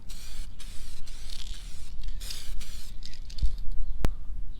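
Clear coat sprays from a spray gun onto a Subaru Forester, making repeated close hissing bursts over a steady low rumble, with a sharp tick near the end.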